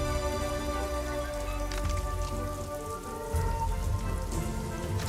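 Steady rain falls on the planet Toshara in the video game Star Wars Outlaws, a continuous dense patter over a low background hum with no voices.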